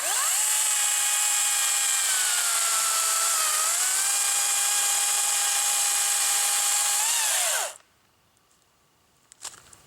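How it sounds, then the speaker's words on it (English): An electric chainsaw cuts through firewood at a campsite, powered by a portable power station: a loud, steady high motor whine with shifting pitch for about eight seconds, then it stops abruptly, leaving near silence and a faint click near the end. "It also has plenty of power to easily run an electric chainsaw"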